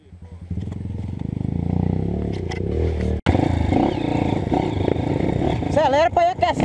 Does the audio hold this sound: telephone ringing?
no